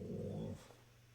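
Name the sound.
dog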